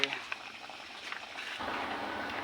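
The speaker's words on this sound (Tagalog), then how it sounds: "Kumulo na po." Ginataang biya, goby fish in coconut milk, bubbling in a pot; a faint, steady simmering hiss that thickens into a denser rolling boil partway through.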